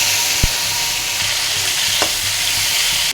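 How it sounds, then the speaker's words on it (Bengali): Potatoes rubbed with salt and turmeric fry in hot oil with a dense, steady sizzle, broken by a few soft knocks of stirring. "এটা এবার তেলে একটু ভেজে নেব।"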